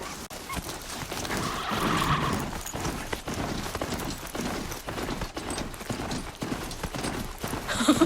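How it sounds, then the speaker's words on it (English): A Strider, a fast horse-like machine mount in Horizon Zero Dawn, gallops with rapid, steady clip-clop hoofbeats that carry on evenly and close by with no voices, under soft ambient game sound. "This Strider is fast! This beats walking."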